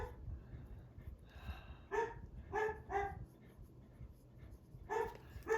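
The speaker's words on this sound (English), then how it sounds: "No idea what he's barking at" A dog barks indoors somewhat in the distance, several separate sharp barks spaced out over a few seconds against quiet room noise.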